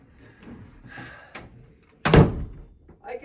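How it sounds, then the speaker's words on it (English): A small door on an indoor roller coaster kit is pushed shut with one sharp, close thunk, preceded by soft handling noises and quiet talk. "I can close the door."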